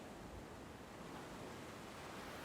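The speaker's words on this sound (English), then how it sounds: "I stand here watching these waves" Steady ocean waves and surf, a broad unbroken wash of noise at low level with no individual breakers standing out and no voices.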